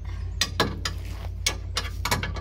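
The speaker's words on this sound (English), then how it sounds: "Put the box end of the wrench on it" A box-end wrench turns a rear suspension bolt while 034 rear lowering springs and an APR rear sway bar are being fitted, making several sharp metallic clicks and ratcheting snaps over a low steady hum, close up.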